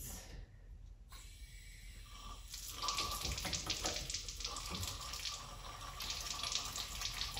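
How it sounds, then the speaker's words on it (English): Running tap water pours into a sink as hands are washed for aseptic lab technique, a steady close splashing wash that thickens midway and continues without talk. "we now need to make sure that we wash our hands"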